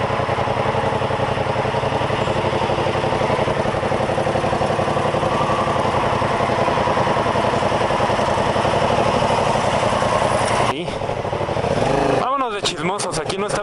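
A Yamaha FZ-07 motorcycle with a modified, loud exhaust idles and runs in a steady, throaty drone for over ten seconds, close up, before a sharp burst of wind-buffeted noise near the end.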